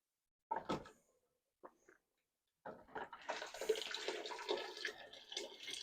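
Water is dumped out of a home canner, a couple of brief clunks followed by a pause and then a steady gushing pour splashing for several seconds, fairly close.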